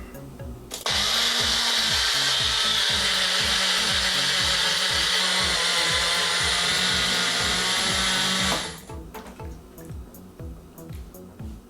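Loud, high-pitched whir of a blender grinding dry oatmeal into flour, running steadily for several seconds and then stopping abruptly.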